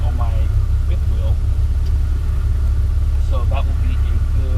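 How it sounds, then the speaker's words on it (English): A 2019 Ram 3500 Mega Cab Cummins diesel pickup cruises on the highway, heard from inside the cab as a steady low road and engine drone. Someone talks over it at intervals. "I'm gonna let you guys kind of listen to the truck"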